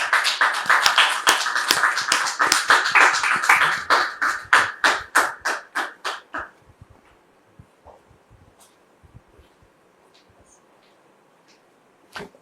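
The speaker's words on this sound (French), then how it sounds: "sous vos applaudissements" An audience claps in a dense burst of applause welcoming guests onto a talk show set, which thins into scattered claps and fades to near silence, with one last clap at the end.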